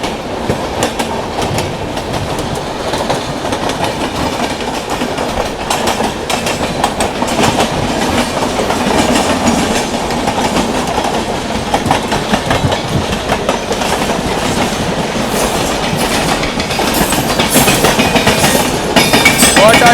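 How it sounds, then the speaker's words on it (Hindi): Special passenger train running fast through open country, a continuous loud rumble with rapid rhythmic clickety-clack of wheels over rail joints, building slightly toward the end, no voices. "ट्रैक साउंड भाई, व्हाट अ ट्रैक साउंड"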